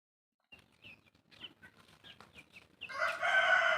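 Soft high peeping of chicks scattered through the clip, then a louder hen's clucking call rises close by at the end.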